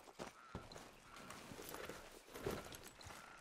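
A horse's hooves clip-clop at a walk in Red Dead Redemption 2, with faint, steady, uneven steps over quiet outdoor ambience, and no talking.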